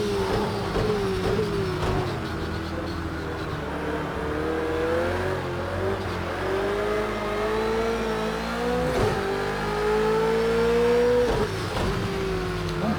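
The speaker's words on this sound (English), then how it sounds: "I'm making this Ferrari engine gargle" A Ferrari engine in a racing video game revs continuously, its pitch swelling and dropping repeatedly over several shift-like cycles, loud and close with no talk.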